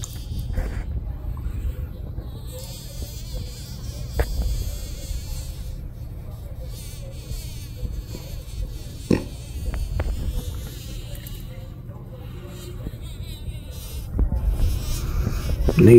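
Insects buzz steadily and close by near a northern black widow spider enclosure, a continuous low drone with a few brief louder passes and no talk.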